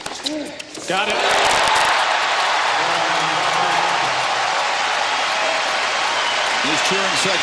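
At the Australian Open tennis final, a stadium crowd bursts into loud, sustained cheering and applause after a break of serve, with a commentator's voice heard briefly before and after.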